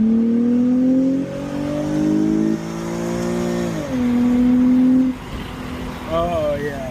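Infiniti G25 engine fitted with an Injen intake, accelerating through the gears with a deep, throaty rising drone, pitch climbing and dropping at each shift, heard from inside the car.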